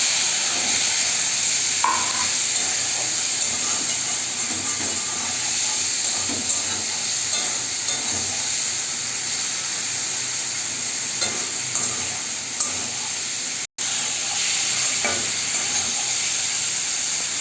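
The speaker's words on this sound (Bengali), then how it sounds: "আমি তেলের মধ্যে আমি মাছগুলোকে ভেজে নেব।" Prawns fry in hot oil in a wok for a Bengali potol chingri dish, giving a steady, loud, unbroken sizzle and hiss with faint clinks of stirring.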